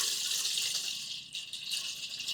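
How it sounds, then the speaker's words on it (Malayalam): Tap water running into a cooking pot set on a lit stove before quail eggs go in, a continuous close splashing stream with slight shifts in tone. "വെള്ളം ഒഴിച്ചിട്ട്"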